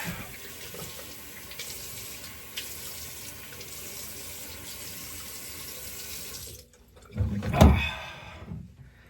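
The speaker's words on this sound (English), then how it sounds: "Let's do a quick rinse and I'll be right back." Bathroom tap water runs steadily into a sink to rinse a shaving razor, a continuous close hiss that cuts off, followed by a short splash and clatter.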